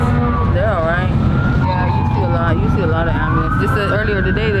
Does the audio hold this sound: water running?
no